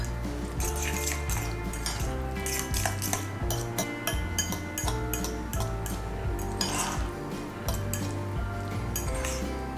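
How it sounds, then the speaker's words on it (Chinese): Mashed avocado seasoned with Japanese soy sauce, salt and black pepper is stirred in a bowl, a steady run of close spoon clinks and scrapes against the dish over about ten seconds. "加入一点点的日式酱油，然后盐巴跟黑胡椒，把它搅拌均匀"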